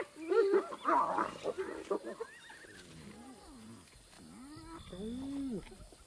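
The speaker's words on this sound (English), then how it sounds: "Hyenas are ripping an impala kill apart." Hyenas tear at an impala carcass in the wild, giving loud whoops, squeals and giggling cries, busiest at first and then thinning to separate rising calls.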